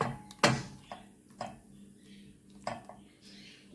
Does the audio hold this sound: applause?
no